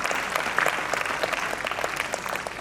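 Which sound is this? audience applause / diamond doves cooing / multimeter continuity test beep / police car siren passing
audience applause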